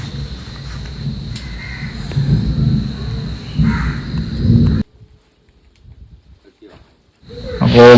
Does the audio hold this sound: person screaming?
no